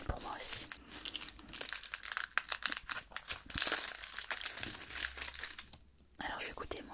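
Wrapper crinkling and tearing as a wrapped Christmas candy is opened, close and crisp with a steady run of rustles and small snaps under a whispered voice.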